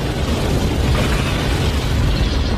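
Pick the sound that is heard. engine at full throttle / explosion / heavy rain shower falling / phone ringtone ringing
explosion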